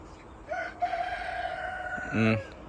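A rooster crows once nearby, a clear drawn-out call ending in a louder final note over a soft steady background hum.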